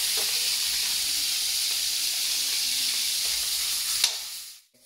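Ground pork sautéing in a pan for rellenong bangus, a loud, continuous sizzle and hiss that holds steady, then drops away abruptly near the end.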